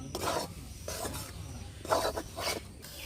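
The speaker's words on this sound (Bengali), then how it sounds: "আমি আস্তে আস্তে করে জাল দিচ্ছি আর এটাকে নাড়তে তালে আছি" Semolina being stirred in a pan over low heat, a few soft scraping, rasping strokes of a spoon against the pan bottom at an irregular rhythm, close and fairly quiet, with no talk.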